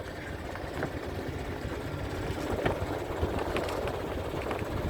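A boat's engine runs steadily at low to mid pitch, droning close by while the vessel hastily reverses out of the way in a channel near Plymouth Sound, with a rough, continuous rumble and no voices.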